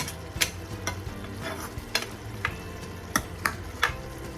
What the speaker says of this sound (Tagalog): kumukulo na ating mga beef broccoli